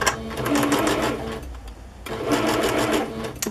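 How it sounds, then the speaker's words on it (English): A sewing machine stitches a zigzag with light blue thread while decorating a bag, a fast close mechanical whirr in two runs separated by a brief pause. "I'm using a zigzag stitch here."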